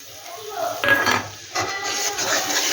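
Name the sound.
stirring and frying masala in a pan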